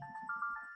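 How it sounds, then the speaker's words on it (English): A generic phone ringtone plays a short, clear melodic chime phrase, close and alone with no talking. "that was just my generic ringtone"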